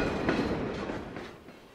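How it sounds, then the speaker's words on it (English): A CP Rail freight train rolls through Summerland on the Central Okanagan Railway's Kettle Valley Division, a steady close rumble with rhythmic wheel clatter that gradually fades. "We see the train travel through the town of Summerlin."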